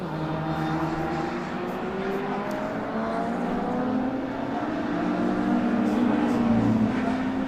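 Race cars lap the Brands Hatch circuit during a classic touring car race, with several engines droning and overlapping at middle distance in a steady, rising and falling roar that swells slightly toward the end.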